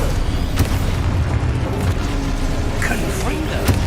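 Explosive spell blasts from the Expulso curse in Hogwarts Legacy, a few sharp booms over dense combat noise and a steady magical rumble, with voices calling out throughout.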